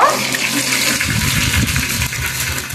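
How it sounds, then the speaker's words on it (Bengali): Water pours into a frying taro dish with a loud, close rushing splash that settles into a bubbling hiss as the pan takes the liquid. "এখন আমি জল দিয়ে দেব"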